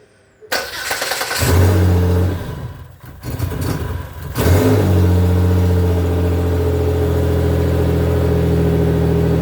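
A 2008 Pontiac G6 GT with the 3.5 engine cranks, catches and revs, dips, then revs up again before settling into a loud, steady idle close by.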